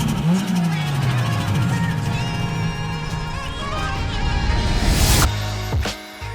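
A 1976-era Mark 1 Ford Fiesta engine revs loudly and close, rising and holding a strained mechanical tone before dropping off abruptly near the end.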